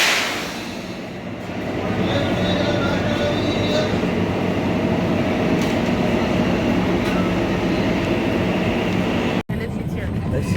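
Shivalik Express train running on rails, a continuous loud rumble and rattle of the carriage with faint wheel squeal, heard steadily from onboard.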